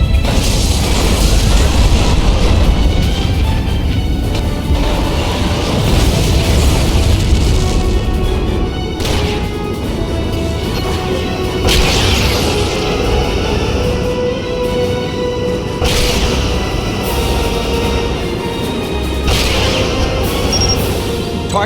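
In the Star Trek Legacy video game, a destroyed Romulan ship explodes in a loud, dense rumbling boom, layered with sustained roaring game sound effects and intermittent bursts throughout.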